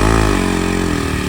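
A KTM motorcycle engine revs loudly up close, a brief rising roar that settles into a pulsing, throaty burble.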